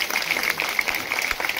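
Scattered, moderate clapping from a village gathering, a crackly stream of hand claps with uneven rhythm and no one talking over it.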